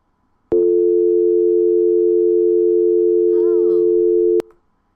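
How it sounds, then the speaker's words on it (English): An old-fashioned telephone dial tone, a steady loud electronic hum holding for about four seconds before cutting off abruptly, with a brief faint voice-like warble near the end. "That sound effect is an old-fashioned dial tone from a telephone."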